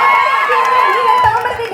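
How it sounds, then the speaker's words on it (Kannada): A crowd cheers and shouts continuously at a comedy show, with voices rising into loud whoops over a dense wash of noise, staying steady and close throughout. "ಬನ್ನಿ ಜೋರಾದ ಚಪ್ಪಾಳೆ"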